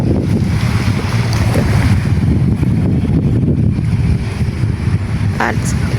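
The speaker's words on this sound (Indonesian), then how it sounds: "Baru muncul angin." Wind gusting outdoors where someone is trying to fly a kite buffets the microphone in a loud, continuous low rumble that fills the whole stretch, with no talk over it.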